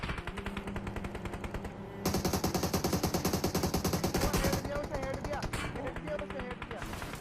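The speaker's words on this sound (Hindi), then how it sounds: "तो बंदों का फायर आता हम पे।" Rapid bursts of automatic gunfire from enemy players in an online multiplayer shooter match, loud and dense, firing in sustained rattling volleys with brief pauses, with a voice talking over the shots.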